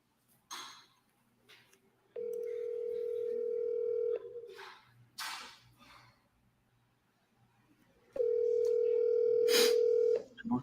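Telephone ringback tone on an outgoing call, two long steady rings separated by a pause, with brief bursts of voices and noise around them.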